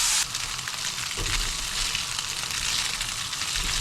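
Tofu and pickled onions stir-fry in a hot pan with a dense, steady sizzle and crackle, with occasional soft scraping from stirring, close up and with no voices.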